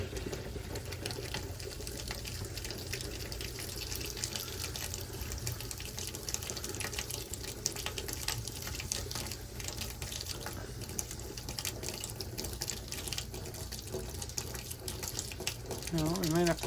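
Water mixed with a little pink antifreeze runs from a faucet aboard a Marine Trader boat during winterizing of the water system, a steady rushing flow that stays even throughout with a low pump-like hum underneath.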